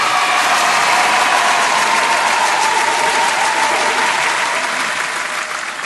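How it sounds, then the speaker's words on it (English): A round of applause fills the room, dense and steady clapping at close range for several seconds that thins slightly toward the end, with no talk over it. "the round of applause for New Orleans"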